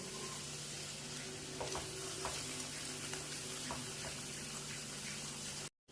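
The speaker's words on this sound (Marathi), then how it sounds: "मसाल्याला पूर्ण तेल सुटूपर्यंत आपल्याला हे मिक्स करून घ्यायचे आहे तोपर्यंत आपल्याला हे परतूत राहायचे आहे" Masala spices frying in oil while being stirred, a steady close sizzle with scattered scraping clicks from the stirring spoon, ending abruptly in silence.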